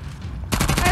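Gunfire in the video game Uncharted: The Lost Legacy, a sudden loud burst of rapid shots that cuts in halfway through and continues densely to the end.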